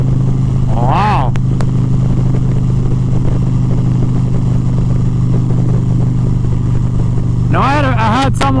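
A 2023 Indian Pursuit Dark Horse bagger motorcycle idles with a steady, loud engine rumble throughout, two brief revs rising near the start and again near the end, with speech-like voices over it.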